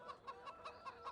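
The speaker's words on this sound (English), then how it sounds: "you can see now that we have all these chickens here." Chickens in Farming Simulator 15 clucking in a steady run of short repeated calls about every fifth of a second, fairly close and moderately loud, with no talking.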